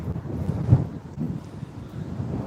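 Strong outdoor wind buffets the microphone with a steady low rumble and gusty swells, loudest in one brief surge, at an outdoor scene near a middle school where police are keeping people back.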